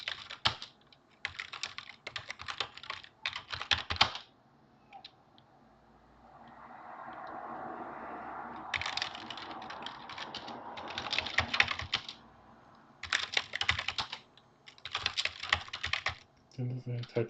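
Bursts of fast clicking on a computer keyboard come in several clusters, with a quiet gap of soft background murmur in the middle.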